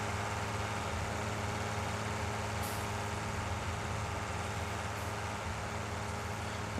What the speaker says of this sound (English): tractor's still too bloody loud